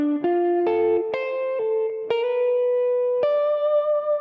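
Electric guitar licks in a Mixolydian jam, played as a run of single sustained notes with sharp plucked attacks and effects and reverb on the tone, each note ringing into the next, close and alone.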